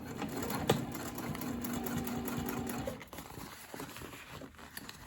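A sewing machine stitches a bag gusset with a steady, rapid mechanical chatter for about three seconds, then stops, leaving faint quiet handling noises.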